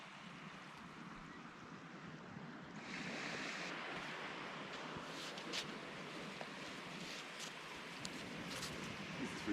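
Surf washing onto a long, empty Atlantic beach with a steady broadband rush and some wind noise, moderately distant and fairly soft, with no talk.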